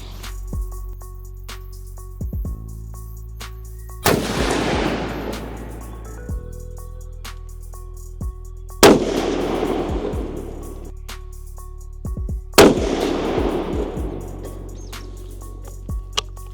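Three loud, sharp .300 Wisdom rifle shots ring out at a range while zeroing, each booming blast followed by a long rolling echo that decays over a couple of seconds, with quiet pauses between.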